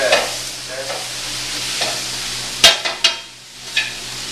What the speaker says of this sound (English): Let this saute for about 2 more minutes once you feel the veg is coated.